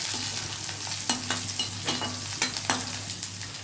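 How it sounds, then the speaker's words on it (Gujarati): Onion sizzling in hot tempering oil alongside dried chillies and curry leaves, a continuous quiet fry punctuated by several rhythmic scraping stirs of a spoon in the pan, close and alone. "ડુંગળી વઘારમાં મૂકી"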